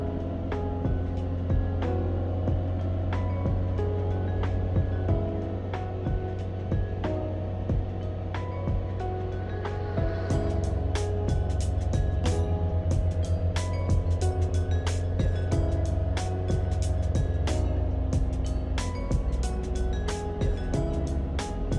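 Engine and cabin noise inside a Mazda 8 held at 3000 RPM, before any heat or sound insulation is fitted: a steady, droning hum with sharp, irregular ticking clicks throughout.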